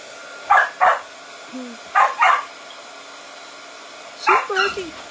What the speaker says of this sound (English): She's barking at Dudley because Dudley's out back barking.